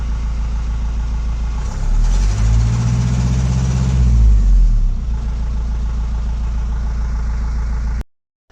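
A car engine idles steadily, then revs up in one smooth swell lasting a few seconds before settling back to idle. It is loud and close and ends abruptly.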